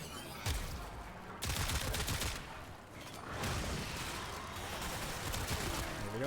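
Rapid volleys of echoing gunfire in a video game Archon hunt, loud bursts repeating across the whole stretch, bouncing around a reverberant space.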